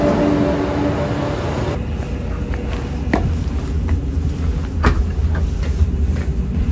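Steady rumbling interior of a full morning passenger train leaving Seodaejeon station in Korea, a constant broadband roar with occasional sharp clicks and knocks from the track, no talking.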